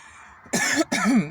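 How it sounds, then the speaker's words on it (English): Two rough coughs in quick succession, close and fairly loud, after a brief quiet moment. "Some of you may know I'm getting over my cough."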